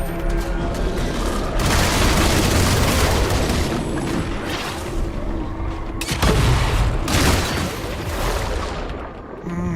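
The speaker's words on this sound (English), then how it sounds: "Organic Gatling cannon." An organic Gatling cannon fires in a video game, sustained bursts of rapid heavy booming shots in two long volleys with a brief pause between, loud and dense throughout.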